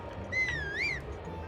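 A single rising and falling whistle, clear and fairly close, from a player calling a horse in Zelda Breath of the Wild, over quiet game ambience.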